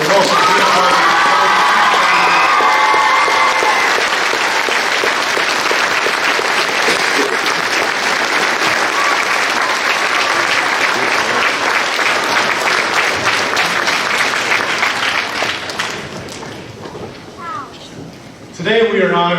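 A large crowd in a school gym at a Veterans Day program applauds loudly, with some cheering and children's shouts mixed in. The sustained clapping fades after about fifteen seconds, and a voice follows at the end.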